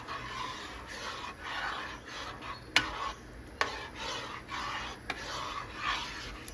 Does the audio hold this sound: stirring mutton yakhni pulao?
yes